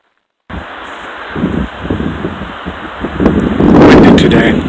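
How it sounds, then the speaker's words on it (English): Gusty wind blows outdoors on a mule deer hunt, buffeting the microphone with a rumbling rush that swells louder toward the end. "Windy today."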